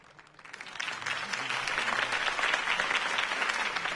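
A video game crowd in Batman bursts into applause that swells after a quiet start, then holds as dense, steady clapping and cheering.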